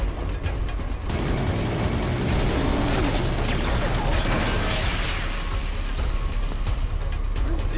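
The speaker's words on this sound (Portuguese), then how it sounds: "foi uns tiros só no robô, né?" Dense gunfire hits a giant robot in the Metal Gear Solid V boss fight with Sahelanthropus. Continuous loud bursts and booms pile over a heavy rumble from the game, with no pause.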